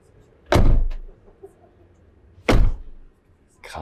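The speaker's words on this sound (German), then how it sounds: "Ich mach mal die Tür." A camper van door is shut twice with a loud, close, solid thunk, the two slams about two seconds apart, with a quieter knock between them and the start of another at the end.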